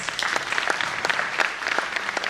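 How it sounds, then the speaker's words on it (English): At an autism awareness conference, an audience claps for a parent in a short burst of steady, moderately close applause with distinct individual claps popping through the wash. "give him a clap"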